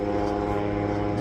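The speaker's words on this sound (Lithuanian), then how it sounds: "lėktuvai jau kyla į šitą tikslaus tupdymo užduotį." Light propeller aircraft taking off at a precision-landing competition, a steady droning engine hum with strong tonal harmonics, loud and continuous over the brief moment, no talk.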